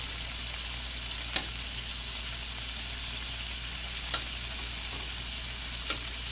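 Beef pieces searing in a pan give a steady, bright sizzle that runs throughout, broken by three sharp clicks or scrapes as the pieces are turned, with no talking.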